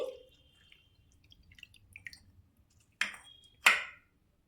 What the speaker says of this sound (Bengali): এবার আমি হাত দিয়ে একটু চটকে নেব হাত দিয়ে চটকে পালটা বার করে নিতে হবে